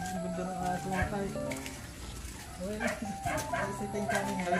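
A dog yips and whimpers in short bursts close by, mixed with people talking through most of the stretch.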